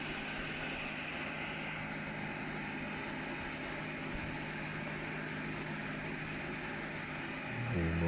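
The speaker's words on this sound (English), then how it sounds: "I believe in this case the inducer motor running on the highest speed" A Carrier ECM inducer vent motor runs at its highest speed, giving a steady mechanical hum with tonal whine and airflow rush, close and constant, swelling slightly at the very end; no one talks.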